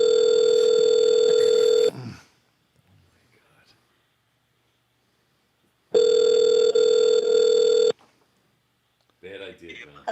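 Outgoing phone call ringback tone, a steady electronic ring sounding twice, each burst about two seconds long with a four-second silent gap between them, and brief background voices heard in the pauses.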